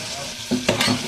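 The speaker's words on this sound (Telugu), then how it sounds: "5 minutes అయితే ఫ్రై అయింది శనగపప్పు" Soaked chana dal fries in a pan with a brief sizzle and a couple of quick stirring scrapes, close and clear.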